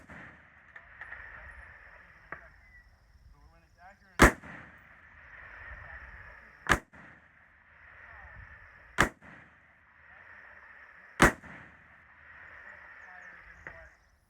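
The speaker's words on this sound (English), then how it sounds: "a video of the action cycling as I pulled the trigger relatively as fast as I could while trying to stay on target" A Christensen Arms CA10 6.5 Creedmoor rifle firing four sharp, loud shots about two seconds apart at a distant range, each cracking over a steady, faint background hum.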